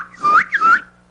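A man whistles two short rising-and-falling notes in quick succession, close and clear against a quiet background with a faint steady hum.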